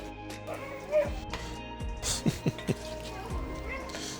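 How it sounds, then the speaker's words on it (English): A dog barks a few times in the background, with sharp yips and whimpering tones spread across the clip, while a person talks nearby. "Can y'all hear the dog?"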